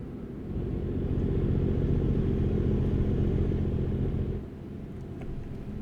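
Steady, loud diesel rumble of a truck engine in American Truck Simulator, droning continuously and then easing lower in pitch and level toward the end as if the truck is shifting down, with no talking over it.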